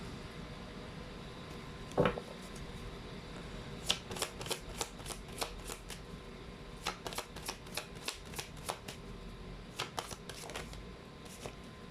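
Chinese fortune cards are shuffled, giving quiet bursts of crisp, rapid riffling clicks in several separate runs, with brief pauses between them and no talking.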